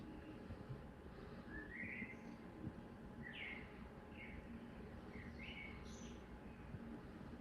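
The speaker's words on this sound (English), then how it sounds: "With beautiful bird sounds." Birds sing in scattered short chirps and twittering phrases, faint and somewhat distant, over a steady low background hum with no talking.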